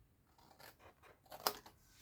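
Scissors snip through card for a gift box, a few quiet, close crisp cuts with one sharper snap near the end, faint and without talking.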